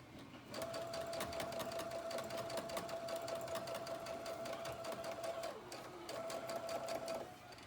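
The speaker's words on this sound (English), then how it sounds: "take it back over to your machine. And what you're going to do is just run a stitch to make your pleats stay in place" A sewing machine runs a steady stitch line to hold fabric pleats in place, its motor whirring loud and continuous with a rapid needle clatter, pausing briefly near the end before starting up again.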